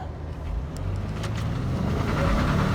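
A 2023 Lincoln Navigator Reserve with 33k miles accelerates at three-quarter throttle, its engine roar building steadily and loud from the cabin, with no voices over it.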